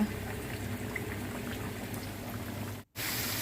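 Flour-coated pork belly frying in shallow oil, a dense, steady crackling sizzle at moderate level that cuts out abruptly near the end and then resumes.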